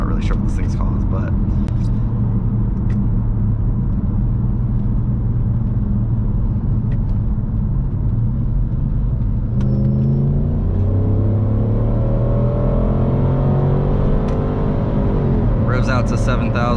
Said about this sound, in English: I mean, this car sounds good. I mean, it sounds beefy.